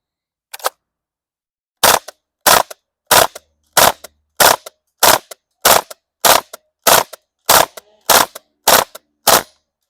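An HK UMP45 gas blowback airsoft gun fires on burst in about 80-degree weather: one crisp shot, a pause, then a dozen loud sharp cracks at an even rhythm, alone and close.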